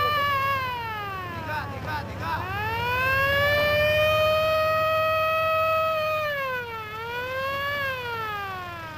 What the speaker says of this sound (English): Mujahideen prayers are interrupted by the arrival of an ambulance run by the British charity Afghan Aid